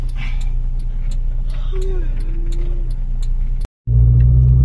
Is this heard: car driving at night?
yes